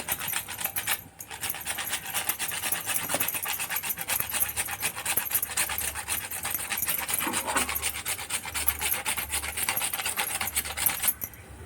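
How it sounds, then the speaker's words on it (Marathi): Whole nutmeg grated by hand for sabudana vadi batter, giving a steady close rasping scrape in quick repeated strokes throughout, with no talking. "थोडंसं जायफळ टाकूया किसून."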